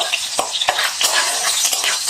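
A chopped ingredient fries in several spoonfuls of cooking oil in a wok for restaurant-style vegetable fried rice. A steady close sizzle runs throughout, broken by sharp spatula scrapes and stirs every fraction of a second.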